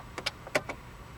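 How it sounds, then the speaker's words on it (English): A steering wheel lock on a 2008 Mitsubishi Lancer fitted with a push-button start releases with a few quick, close mechanical clicks and a short whirr, spread over about a second in a quiet cabin. "when you hit this button, you're going to hear the steering wheel lock unlock"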